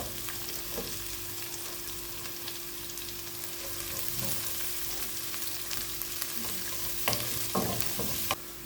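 Chopped onion sautéing in a pan for kadala curry, a steady broadband sizzle with occasional spatula stirs and scrapes near the end, no talk.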